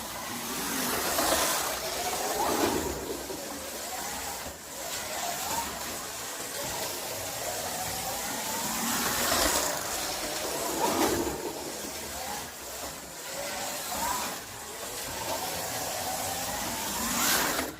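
Slot cars whir around a toy track with hairpin turns, a continuous buzzing whine that rises and falls in repeating swells as the cars pass and circle the lap.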